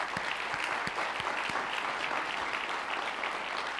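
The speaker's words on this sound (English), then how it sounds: "If we could give them a round of applause." Steady applause from an audience fills the whole stretch, dense and even with no voices standing out.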